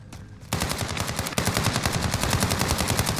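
A rapid, evenly spaced stream of machine-gun fire in a first-person shooter, loud and close, starting after a short quiet moment and jumping louder partway through.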